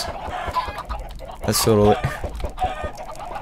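Chickens cluck from a chicken farm in a video game, a short burst of fowl calls standing out mid-clip while a person talks over the scene.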